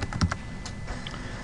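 Computer keyboard typing at a desk while entering comments on a work order, a quick irregular run of light key clicks, close and fairly quiet, with no talking.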